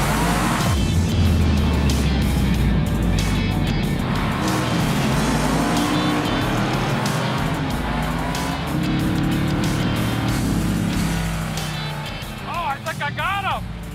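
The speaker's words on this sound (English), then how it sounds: "This is more like street racing back in the day than drag racing." A Chevy gasser race car roars loudly and continuously as it accelerates hard in a street-style race, tires squealing near the end, with the engine dominating throughout.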